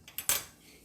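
A hot pot pulled off a kitchen stove after frying plantains gives a few quick metallic clinks and a sharp scraping clatter, close and short, with no voice.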